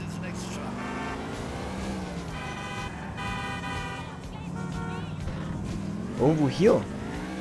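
A car engine drones steadily through a drive in the video game GTA 4, with brief harsher bursts near the end, while someone talks over it throughout.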